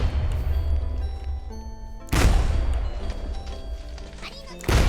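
An RGO impact grenade detonates in a modded Minecraft warfare scene: two sharp, loud explosion blasts land a few seconds apart, each followed by a rumbling tail, over quieter low game noise.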